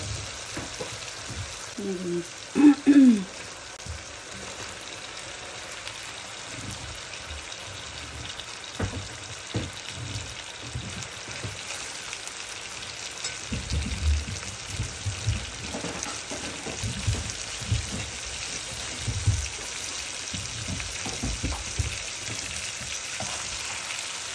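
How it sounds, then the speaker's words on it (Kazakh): Meat and vegetables, including carrots and bell peppers, frying in a pan for a Thai-style meat dish, with a steady close sizzle, occasional stirring and scraping, and brief voice sounds early on. "Әбден қуырып аламыз осыларды."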